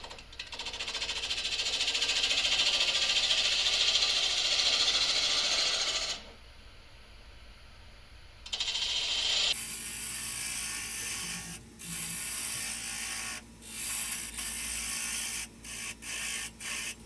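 A wood lathe hollows a shallow wooden dish: a loud, steady cutting hiss runs for several seconds, drops to a quieter spinning hum, then resumes in a run of cuts broken by short pauses.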